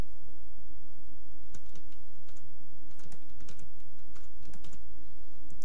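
Typing on a computer keyboard while entering school fee data online, scattered bursts of close, light key clicks over a steady background hum, no voices.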